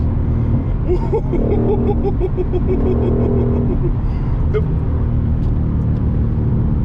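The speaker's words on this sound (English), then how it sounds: "That is a different feeling, going around a curve, feeling a car that can handle." A high-performance car takes a curve with a constant loud engine rumble and road noise. Brief voices are heard over it.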